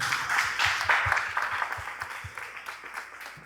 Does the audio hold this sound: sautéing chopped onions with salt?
no